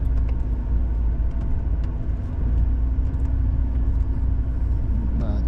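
A truck rolls along a snowy road in a blizzard, its steady low engine and tyre rumble filling the cabin with constant, fairly loud droning and a few faint clicks, without speech.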